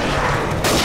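A thrown explosive in Left 4 Dead 2 going off with a loud, broad blast that swells sharply near the end of a short burst, heavy and close.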